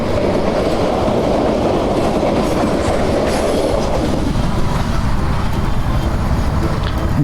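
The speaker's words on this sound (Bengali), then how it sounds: "দেখুন ভাই ট্রেন ছুটে যাচ্ছে পাগলা ঘোরার মতন" A Dhaka–Rangpur train rushes past close by, a loud steady rumble with rhythmic clattering wheels throughout.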